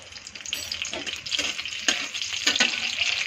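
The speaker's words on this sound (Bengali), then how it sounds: "তেলটা ঢেলে দিচ্ছি। ওর মধ্যে একটা কাঁচা লঙ্কা ছেড়ে দিব, একটু কালো জিরা ছেড়ে দিব।" Green chili and nigella seeds hit hot oil in a wok with a close, crackling sizzle, bursts of spattering and stirring scrapes rising and falling over a few seconds, no voices.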